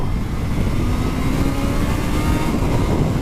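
Kawasaki Z-H2 motorcycle accelerating hard with the front wheel lifting, a dense, loud engine roar with rushing wind, steady and close throughout.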